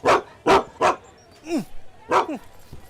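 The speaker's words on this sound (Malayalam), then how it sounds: "ആ പട്ടി ഇറക്കി വിട്." A dog barks sharply several times in quick succession, close and loud, followed by a whimpering yelp and one more bark, in an outdoor scene from a Malayalam feature film.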